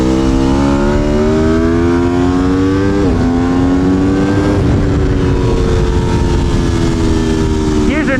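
An Aprilia Tuono V4 1100 Factory motorcycle screams at high revs on a race track, the loud, close engine howl climbing steadily, dipping briefly with gear changes, then climbing again without a break for the whole stretch.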